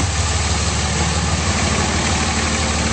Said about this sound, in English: under the hood, nice clean engine bay, and it's running very smoothly